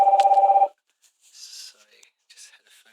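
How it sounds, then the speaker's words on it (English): A telephone rings in a rapid electronic pulsing burst, loud and close, then stops abruptly, followed by faint rustling and quiet breathy sounds. "sorry, just had a phone call."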